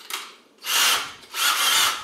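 A power drill fitted with a string winder bit winds bass guitar strings, giving two loud sustained whirring bursts separated by brief pauses, heard close and alone.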